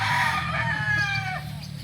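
An SBR gamefowl rooster crows loudly and close by, one long strained call that carries through the clip over a low steady background hum.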